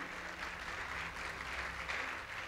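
Congregation applauding in a church service, a dense, continuous patter of many hands at moderate level with no talk over it.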